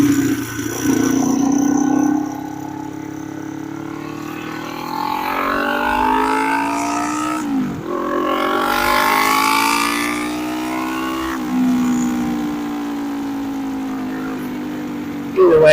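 Motorcycle engine revving up and down through rising and falling pitch sweeps, loud and close, with several separate acceleration pulls and a rider talking in between.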